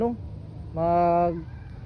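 A single drawn-out chicken call rings out nearby on a farm, a short harmonic squawk over quiet outdoor background noise.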